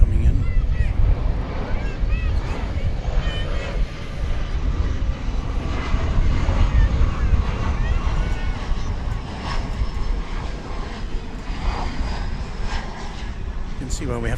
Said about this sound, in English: We've got a plane coming in.